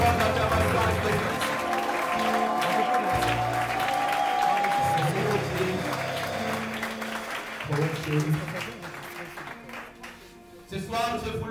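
Church congregation applauding as an offering of acclamation to Jesus, sustained dense clapping with background voices and musical tones, fading slightly toward the end.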